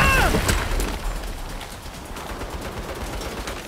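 Turret gunfire in the Saints Row video game, rapid crackling shots at moderate distance that are loudest at the start and then thin into a steady rattle under a brief shouted voice.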